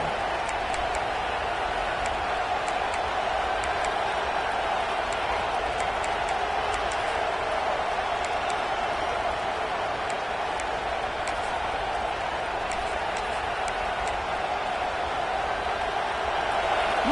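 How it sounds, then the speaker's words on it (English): Stadium crowd at a Tennessee football game, a steady, dense roar that holds at an even level for the whole stretch without breaks. "Listen to the crowd energy here in the early going."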